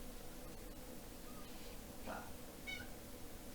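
A pet cat gives a couple of short, faint meows over a steady background hiss, with brief quiet gaps between them.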